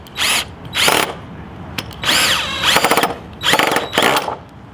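A power drill with a long bit drives angled screws into short pieces of wood for a DIY roller skate slide rail, giving six whining bursts with rising and falling pitch, separated by short pauses.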